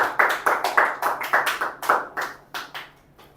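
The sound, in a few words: audience clapping for a girl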